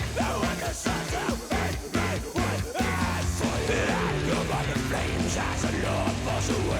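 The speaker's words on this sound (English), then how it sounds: "I like that fuzzy guitar tone." Heavy riffing on a fuzz-pedal guitar gives a thick, buzzy, saturated distorted tone. It opens with choppy rhythmic hits, then settles into a dense sustained wash that stays loud and steady.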